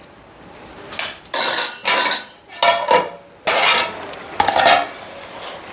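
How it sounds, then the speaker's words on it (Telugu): A lid going onto a pot of mango dal made with split lentils, with several loud metallic clanks and scrapes of cookware in an uneven run, close by. "మూత పెట్టుకోవాలి."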